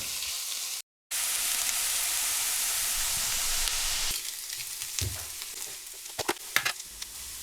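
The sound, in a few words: onions cooking in a pan until soft and brown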